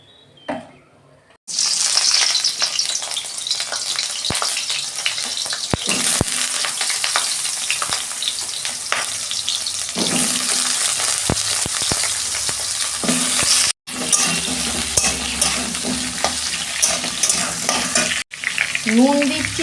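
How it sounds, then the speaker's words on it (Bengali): Pointed gourd (potol) sizzles loudly in hot oil in a wok, a steady close frying hiss broken by stirring scrapes and a couple of brief gaps, with no voices. "কড়াই তেল দিচ্ছি, পটলগুলো ভাজবো"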